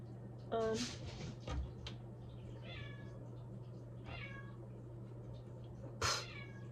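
A cat meows several times in a quiet kitchen, short separate calls spread across a few seconds over a low steady hum, fairly close, with faint human sounds between them.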